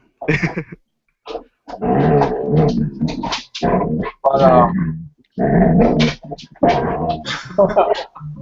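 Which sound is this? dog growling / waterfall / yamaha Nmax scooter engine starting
dog growling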